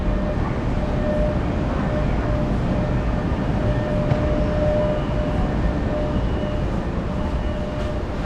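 A Bangkok MRT train running at night makes a steady, continuous rumble and hiss, heard from on board. A faint high whine runs through it, with no breaks.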